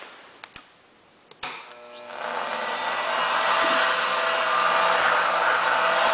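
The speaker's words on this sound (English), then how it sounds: "So first thing we're going to do is to turn on the gearbox." A few sharp clicks sound before the gearbox of a device for machining the flywheels of a hit-and-miss engine switches on, followed by a rising, steady mechanical whir that builds and then holds.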